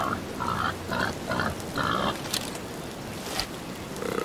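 A pig in the hunting game Hunting Simulator 2 gives a run of five or six close grunts in a loose rhythm. Each is a short nasal burst, followed by a quieter stretch with a couple of sharp clicks, and no voices.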